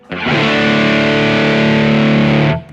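A single sustained distorted electric guitar chord from a Kemper Profiler with delay and reverb rings out loud and full for about two seconds with an ambient wash, then cuts off.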